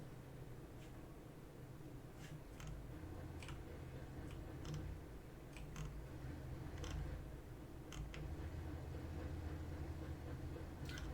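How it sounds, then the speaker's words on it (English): Faint rhythmic clicking from the 110E3, evenly spaced light ticks over a steady low hum, giving a quiet train-on-rails clatter heard alone without speech. "It's got a train sound, doesn't it?"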